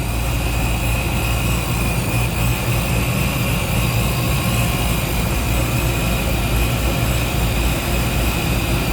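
Supercharged 2011 Chevrolet Camaro with a ProCharger, running steadily with a loud, constant engine drone and whine close by, no voices.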